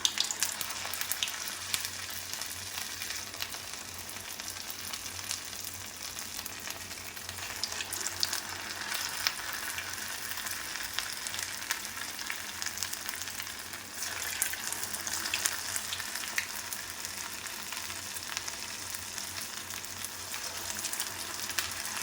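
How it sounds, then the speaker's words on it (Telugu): Sweet corn fritter batter dropped into hot oil, a continuous crackling sizzle with bubbling texture that holds steady at moderate loudness throughout, with no talk. "పిండిని మనం ఇలా చిన్నగా ఇలా చేతి మీద ఇలా అనుకొని ఆయిల్లోకి వేసేసుకోవడం అండి"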